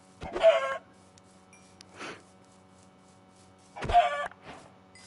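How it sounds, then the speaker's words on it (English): Chickens in Minecraft Bedrock give two clear clucking calls a few seconds apart, each followed by a softer cluck, close by against near silence. "The chickens will do."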